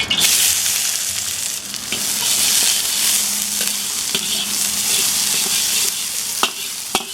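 Onions fry in oil in a very hot wok, giving a loud continuous sizzle with occasional sharp scraping clicks of stirring, and no voices.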